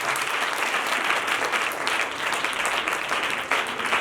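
Many hands in a church congregation clap in a loud, sustained burst, a dense steady roar of applause with small surges and no voices over it.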